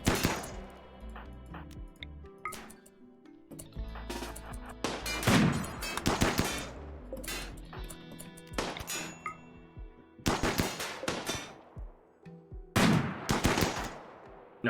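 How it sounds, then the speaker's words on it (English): Gunfire blows up charge turrets in the colony game RimWorld: sharp volleys and rapid machine-gun bursts come in clusters separated by brief lulls, with metallic clangs and impacts among them. "we're blowing up these charge turrets"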